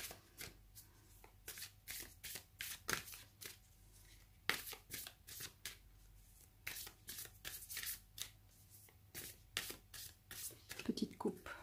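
A deck of Lenormand cards is handled and cut, giving a rapid series of crisp, close riffling and slapping bursts in irregular clusters, fairly quiet, with a little soft talk.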